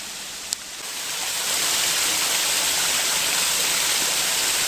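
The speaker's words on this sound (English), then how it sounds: "Here's a waterfall." Waterfall in the fern garden at Blarney Castle, a steady broadband rush of falling water that swells in over the first second and then holds constant and fairly loud.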